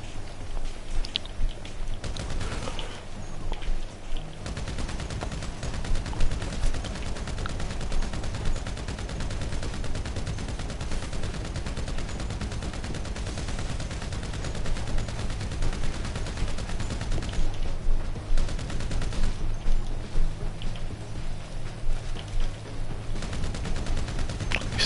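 Rapid gunfire from a Grand Theft Auto shootout plays steadily for the whole stretch, dense bursts of shots with no gaps and no one talking.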